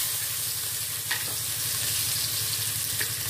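Spice paste for sambal goreng with shrimp and petai fries in hot oil, a steady close sizzle and crackle that holds through the whole stretch, with a couple of brief brighter spits and no talking.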